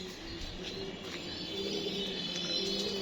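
Pigeons in a loft coo softly at close range, giving repeated low murmuring calls over a steady background hiss.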